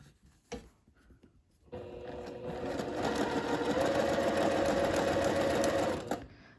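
A sewing machine top stitches a fabric hem, running steadily and fairly close for several seconds after a few soft handling bumps, then stopping.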